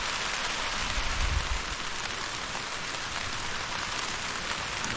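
Steady rain hisses down in a dense, even wash of drops, close and constant, with no voices.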